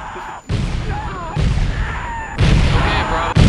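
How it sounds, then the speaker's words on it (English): Grenade explosions in an old video game, several loud booming bursts in quick succession with abrupt starts, while a person talks over them. "Now I'm just throwing grenades everywhere."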